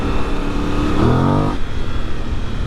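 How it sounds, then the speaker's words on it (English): An 800cc parallel-twin engine on a Voge DS800X Rally motorcycle revs close by, climbing sharply in a single grunty blip, then dropping back to a rumbling idle. "it makes a good grunty noise. So it's an 800cc parallel twin, 95 horsepower"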